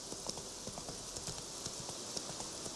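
Hooves of the horse Roach clip-clop in The Witcher 3, a quiet, even trot of soft repeated clops heard faintly and close over a light steady background hiss, with no talking.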